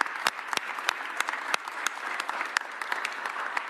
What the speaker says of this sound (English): let's give the Eagles organization another round of applause.